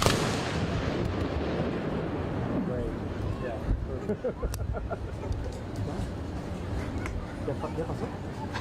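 At an outdoor Veterans Day ceremony, a rifle volley salute cracks out as one loud burst at the very start. Low crowd murmur and talking continue underneath for the rest.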